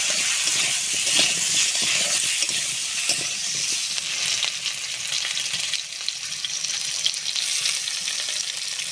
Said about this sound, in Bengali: লবণ, হলুদ গুঁড়ো, আলুটা সুন্দর করে ভেজে নেব।